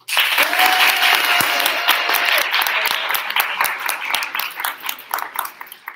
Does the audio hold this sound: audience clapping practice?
yes